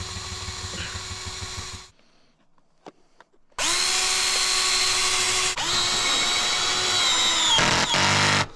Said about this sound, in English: I'm just gonna put some screws in to the part where it interlocks